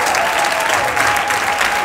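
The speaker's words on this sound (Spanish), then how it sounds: "Fuerte un aplauso para ella, por favor." An audience at a Spanish comedy show's closing ceremony gives sustained, dense applause, a loud continuous wash of clapping from a large crowd.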